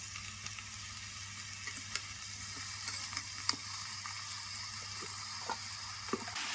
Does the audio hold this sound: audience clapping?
no